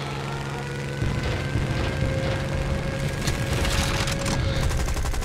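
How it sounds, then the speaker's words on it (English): Japanese 30mm cannons in the War Thunder air combat game fire past a Mosquito, a dense rattling fusillade of rapid heavy bursts over engine drone that starts abruptly and keeps pounding loud to the end. "that was the sound of some Japanese 30mm cannons flying past that mosquito there"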